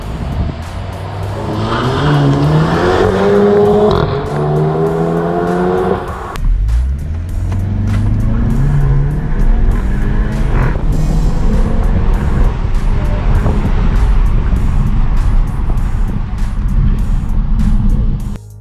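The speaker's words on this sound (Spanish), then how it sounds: "Ahora veamos el 0 a 100 de este Audi TT." An Audi TT TFSI accelerating hard from 0 to 100 km/h, loud close engine climbing in pitch through gears with a sharp drop at a shift, then a sustained deep roar and road rumble.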